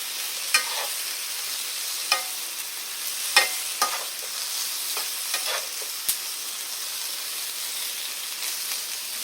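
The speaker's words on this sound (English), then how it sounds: "So each of them are frying right now." Eggplant slices sizzle and crackle steadily in a hot pan, with scattered sharp pops and clicks over the continuous frying hiss; no talking.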